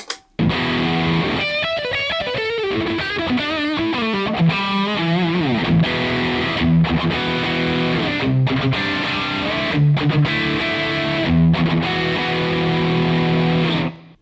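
Heavily distorted electric guitar through a Rectifier amp's dirty channel, playing a fast lead run and then thick, saturated chugging riffs, loud and continuous throughout.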